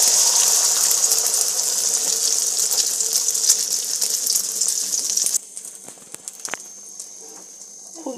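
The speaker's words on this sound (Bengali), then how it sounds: "তেলটা গরম হয়ে এসেছে, এইবারে আমি ডিমের মিশ্রণটা ঢেলে দিলাম।" Egg mixture poured into hot white oil in a wok, giving a loud, steady sizzle with a bright hiss that drops abruptly after about five seconds to a quieter crackle, with no talking.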